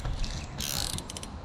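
A ratchet wrench clicks while breaking a bolt loose on a 2000 Ford F-250, a short burst of metallic ratcheting ticks followed by a few separate clicks, close and alone.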